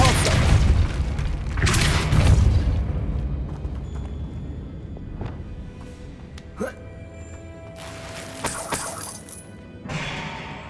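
A Depulso force spell blasting in Hogwarts Legacy, with loud booming bursts near the start and a sharp crashing impact later, amid game ambience and scattered clatter.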